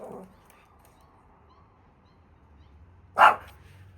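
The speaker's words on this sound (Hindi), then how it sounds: "एक तो ये कुत्ते बहुत लड़ते हैं हमारी गली के" Street dogs in a residential lane at night let out one loud, sharp bark close by near the end, after a quieter low yelp at the start, over faint background hum.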